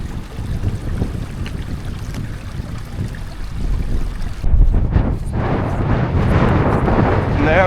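Strong headwind blasts across the microphone on a hiking trail, a continuous rough roar that grows harsher and louder in the second half.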